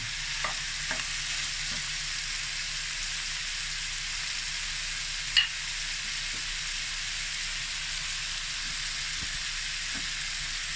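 Onion sautéing with golden-browned chicken in a pan, a steady soft sizzle throughout with a few faint clicks and one brief louder knock, no voices.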